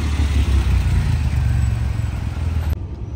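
Ferrari cars, including Dinos, an F8 and a 400, driving past on a road, producing a loud, steady low engine rumble close by that cuts off abruptly near the end, with no talking.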